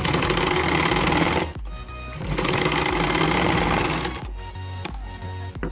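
Domestic sewing machine stitching fabric along the side of a maxi dress, running in steady continuous bursts with two short pauses, loud and close with no talk.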